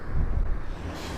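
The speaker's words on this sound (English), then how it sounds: "Oh my God, it's so windy." Strong gusts buffet the microphone on a fishing trip, a low rumbling blast that is loudest at first and then eases, with no voices.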